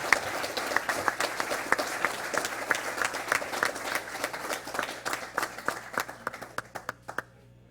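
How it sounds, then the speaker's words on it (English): Applause at a town council meeting for baseball coaches and players, many hands clapping steadily, then thinning to scattered individual claps that fade out near the end. "How about a big round of applause for these coaches and these players?"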